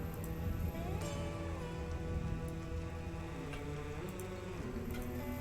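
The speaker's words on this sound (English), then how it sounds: "Poor Henry, out there in the rain." Steady rain falls in the survival game Stranded: Alien Dawn, an even, continuous hiss of drops on surfaces, with no talk over it.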